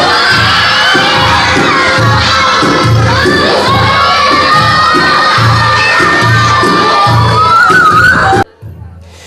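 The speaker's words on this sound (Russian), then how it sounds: "а визги были слышны даже на улице" Loud, dense shrieking and shouting from a crowd of child patients at a circus show in a children's regional hospital, performers with a monkey and a python, continuous excited screams throughout that cut off abruptly near the end.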